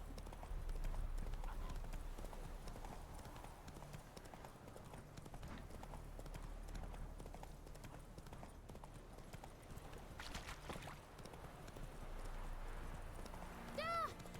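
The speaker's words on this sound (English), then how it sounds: "Whoa there, Roach" Horse hooves clip-clopping steadily in The Witcher 3 video game, soft and fairly distant under background ambience, with a short whinny-like sound near the end.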